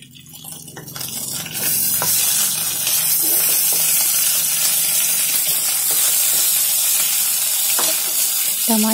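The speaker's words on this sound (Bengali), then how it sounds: "মাছ বেশি কড়া করে ভাজবো" Pieces of fish fry crisp in hot mustard oil for a Bengali shorshe ilish meal, a dense, steady sizzle that swells after the first second and holds loud and close, with occasional stirring scrapes.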